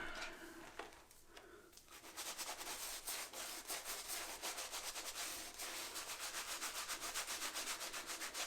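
A Rockwell 6S safety razor scrapes across a lathered face in quick, close strokes, a rhythmic rasping that grows steadier and louder after a short pause.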